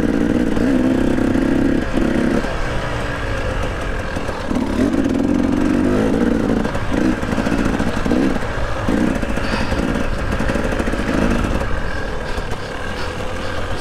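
An enduro motorcycle rolling downhill during a race in South Africa, heard close from the rider's position: its engine burbles and revs in short bursts over a continuous rumble and clatter.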